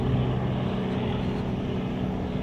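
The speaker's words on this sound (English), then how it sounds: "This helicopter is after me, by the way." Helicopter flying overhead, a loud, continuous low rotor and engine drone with a steady throb that stays constant and close throughout, no talk heard.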